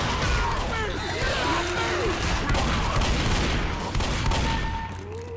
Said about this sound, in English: Man, this sniper rifle